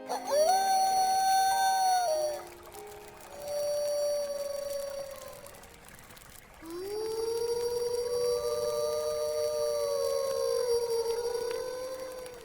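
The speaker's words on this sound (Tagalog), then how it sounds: "nakarinig kami ng parabang alulong ng isang hayop sa di kalayuan" A distant animal howls in long, wavering tones, three drawn-out cries rising and falling across the stretch, with a faint siren-like quality and no talking.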